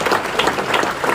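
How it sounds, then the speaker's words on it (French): Audience applause at a municipal New Year's greetings ceremony in a town hall setting, a brief burst of steady clapping from the crowd. "on peut effectivement les applaudir"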